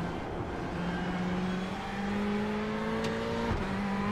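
A GTE race car engine in a sim racing game at Suzuka drones and climbs in pitch as it accelerates through the gears, with a steady, loud engine whine and one quick shift near the end.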